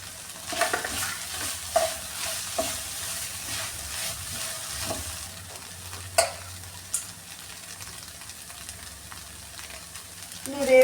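Egg cooking in a pan with chilli sauce for restaurant-style noodles, a soft steady sizzle broken by scraping stirs and occasional utensil knocks, no voices.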